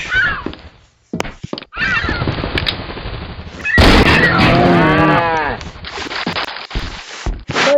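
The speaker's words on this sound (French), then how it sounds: "il y a une grosse vache." A cow in the Minecraft video game gives a long, loud, drawn-out moo, up close, between stretches of someone talking and other game sounds.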